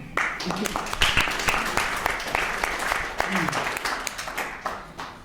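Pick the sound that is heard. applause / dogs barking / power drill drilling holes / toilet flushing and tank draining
applause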